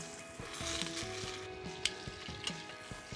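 Trimmed leg of lamb pieces, salted and peppered, searing in hot olive oil: a quiet, even sizzle with a few sharp clicks and taps of utensils, heard close and without speech.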